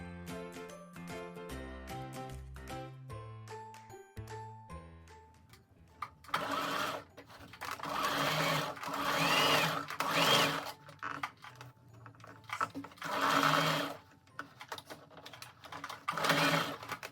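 A sewing machine stitching a pleated slip dress. Short plucked musical notes come first, then the machine runs in steady, fairly loud whirring bursts with brief pauses between them.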